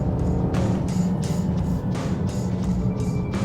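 2016 Volvo XC90 T6 accelerating, a steady low engine drone heard from inside the cabin, with faint rushing and clicks over it.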